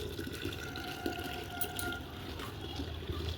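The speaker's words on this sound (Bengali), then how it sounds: "বৌমশাই গাছে জল দিচ্ছে।" Water poured onto potted garden plants at dusk, a steady continuous splashing and trickling that stays close and fairly even throughout, with no talking.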